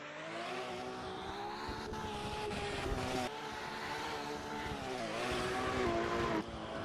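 Race cars, a Ferrari among them, accelerate on Sturup Raceway's layout B. A continuous high engine drone climbs and dips in pitch as the cars pull away, with a faint tyre hiss underneath.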